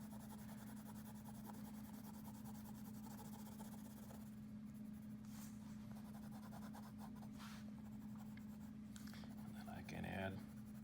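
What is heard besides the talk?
pencil shading on paper, pressing hard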